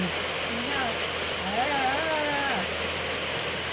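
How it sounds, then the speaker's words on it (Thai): Rain hisses steadily and fairly softly, with a voice rising briefly above the wash of falling water partway through. "ฝนตกก็มา"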